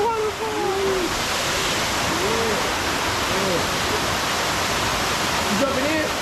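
A waterfall pours with a steady, full roar that fills the whole stretch, close and unbroken, while people's voices sound briefly over it at the start and near the end in the cold outdoors.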